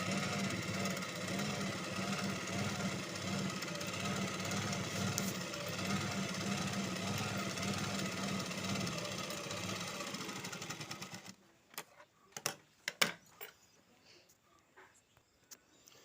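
A sewing machine stitches a buff sleeve in a fast, steady, close mechanical chatter for about eleven seconds, then stops, followed by a few sharp clicks and knocks from handling the fabric.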